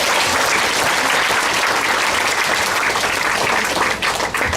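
An audience at a product talk claps loudly and densely, a thick burst of applause that fills the space evenly before dipping slightly at the end.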